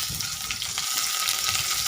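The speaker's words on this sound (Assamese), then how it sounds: "এতিয়া মই তেল অলপ দি পিঁয়াজখিনি ভাজি লৈছোঁ।" Onions fry in a little oil with a dense, even sizzle and faint stirring, heard close up and alone for a brief moment.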